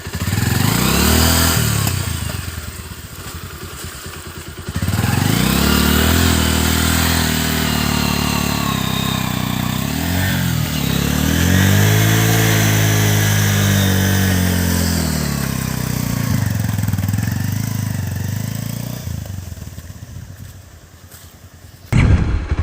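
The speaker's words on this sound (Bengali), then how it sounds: "এই হচ্ছে আমাদের বাইক।" An off-road motorcycle rides a rough, hilly track near the India–Bangladesh border in rain. Its engine is loud and close throughout, swelling and dropping through repeated throttle changes, and a brief thump comes near the end.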